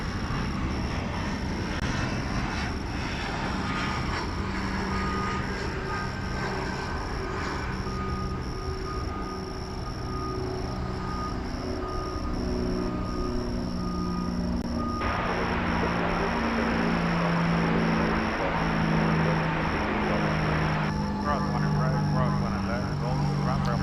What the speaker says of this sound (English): here comes an American Eagle plane from Tyler, Texas,